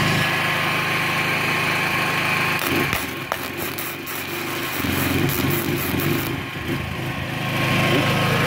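A MIG 160 gasless flux-core welding machine runs under load, a steady buzzing crackle of the arc with fan hum, continuous and fairly loud throughout, with some brief irregular bursts midway.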